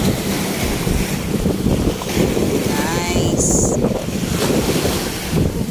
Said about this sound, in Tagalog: masarap pakinggan ng alon ng mahampas sa Dalampasigan